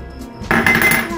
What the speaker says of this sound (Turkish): Bulgurunu döküyorum.